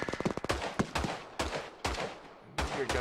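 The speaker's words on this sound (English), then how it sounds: "I hear gunfire coming from this direction." Gunshots crack out in Hell Let Loose, a WWII shooter battle among hedgerows: a quick burst of rapid shots leads off, then single heavy reports and short volleys follow at irregular gaps, loud and fairly close.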